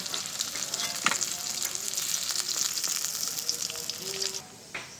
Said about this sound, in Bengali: এবার বাকি মাছগুলোও ভেজে নেব।